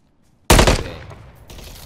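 A single loud burst of gunfire opens a first-person shooter match in Call of Duty DMZ, cutting in sharply from near silence and then ringing out in a decaying tail, followed by a fainter second report.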